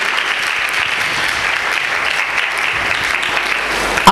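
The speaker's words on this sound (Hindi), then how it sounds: "जोरदार तालियां नहीं बजा रहे तुसी," A church congregation claps during a sermon, a steady, loud wash of many hands that continues evenly throughout.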